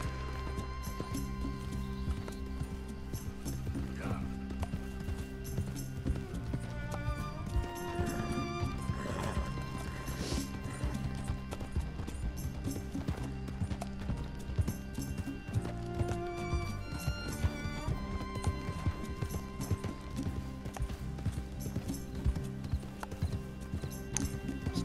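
Horse hooves clip-clop at a steady riding rhythm during a night ride in the Red Dead Redemption video game, the regular beats set under continuous background music with an occasional whinny.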